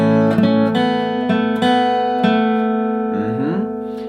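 An acoustic guitar plays a single-note picked riff over a ringing bass note, several distinct plucks with a small slide near the end, close and alone without talk.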